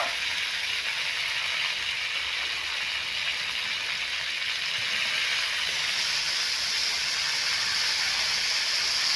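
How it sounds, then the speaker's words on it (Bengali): Cauliflower fries in hot oil seasoned with five-spice, a dried red chili and a bay leaf, giving a loud, steady, close hiss that grows slightly stronger and never stops. "তো এবার দিয়ে দিচ্ছি আমি ফুলকপিটা"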